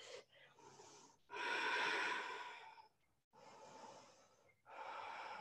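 Deep, slow breaths during a vinyasa yoga flow: long audible inhales and exhales in a steady rhythm, close to the microphone and fairly soft, with no speech.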